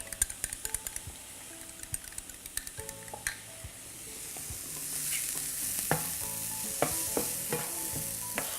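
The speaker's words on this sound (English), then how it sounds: "Add in the lime, just gonna whisk that up." A whisk clicks and scrapes rapidly through Pad Thai sauce with lime in a bowl, a quick close rattling rhythm that turns to a steadier swishing as it goes on, with a few sharp taps near the end.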